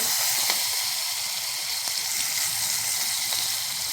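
Asafoetida and curry leaves hitting hot oil alongside browned garlic, giving a steady, close, bright frying sizzle and hiss that runs throughout with no talking.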